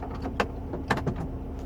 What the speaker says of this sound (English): The car's central locking system works.